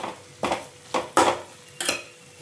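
Four distinct soft thuds and scrapes, tomatoes dropping into a pan for egg curry and being stirred, spaced irregularly with quiet sizzling between, close by and without talk.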